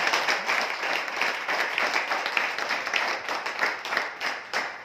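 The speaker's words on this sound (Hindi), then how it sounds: "एक बार सभी महिलाओं के लिए जोरदार तालियां होनी चाहिए" A crowd claps steadily for several seconds, dense and continuous, with no talking over it, at a business talk in Ahmednagar, India.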